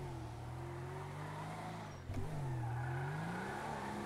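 Steady engine drone of a car driving in GTA V, a convertible with stock engine, holding a mid-pitched hum that dips slightly then resumes with a faint bump, continuous and fairly loud with no talking.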